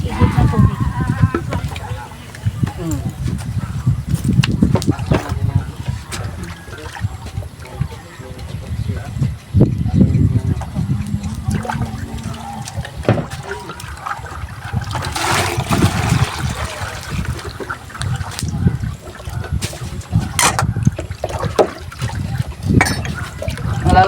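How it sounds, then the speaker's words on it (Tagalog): Water poured and splashed around a small hut during work, irregular trickling and sloshing over several seconds with people talking nearby. "Tubig, igit na tubig."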